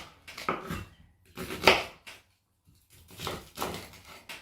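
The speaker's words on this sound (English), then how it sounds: "Cut the tops off." A knife trims the tops off fresh beets on a board in a home kitchen, giving a few separate close knocks and scrapes with short pauses between them. No one speaks.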